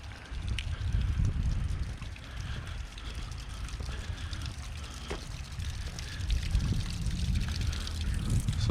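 Water trickles from small rock grottoes in Syracuse, Sicily, a faint, continuous splash and dribble half-buried under low, rumbling outdoor wind noise.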